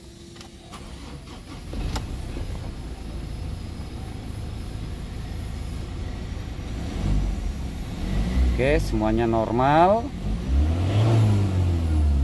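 A 2015 Ford Ranger T6 XLS common-rail diesel pickup cranks and settles into a steady, clattering idle, then revs climb and fall in a few swells near the end; someone speaks briefly over the engine.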